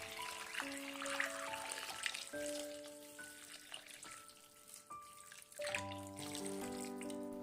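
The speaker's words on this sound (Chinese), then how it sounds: "搓洗一遍之后，再倒入多一点的清水，" Clean water pours over cucumbers in a bowl for rinsing, a soft trickling and splashing heard faintly under a bright melodic background with no talk.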